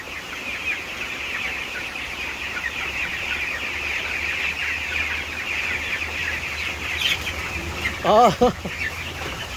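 Chickens cluck in a steady chorus while poultry feed is poured out, near and continuous, with a louder burst of squawking toward the end and a brief voice.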